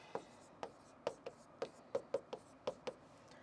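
A pen writes on paper while working a reasoning practice question, giving about ten soft, quick scratchy strokes in an irregular rhythm, close and quiet with no talk.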